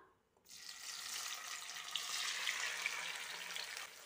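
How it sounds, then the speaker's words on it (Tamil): Tomatoes hit hot sesame oil in a kadai and fry with a steady, hissing sizzle that starts abruptly after a short silence and holds evenly, soft and close. "எண்ணெய் சூடாகட்டும் தக்காளி சேர்த்துடலாம்"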